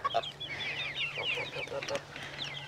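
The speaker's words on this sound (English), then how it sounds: "You checking out all the chickens?" Backyard homestead chickens clucking and squawking in a busy overlapping chorus, fairly close, with a few sharper calls and a brief thump mixed in.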